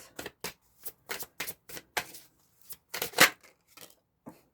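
Quick, papery riffles and flicks of a deck of cards being shuffled for a reading, close and dry in irregular bursts with short pauses, no talking.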